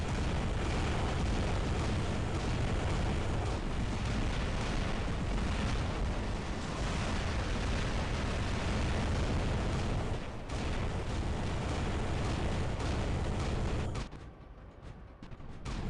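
Heavy robot weapons fire and explosions roar in the War Robots mech combat game, a dense, continuous barrage of booms and bursts that stays loud almost throughout before briefly dropping away near the end.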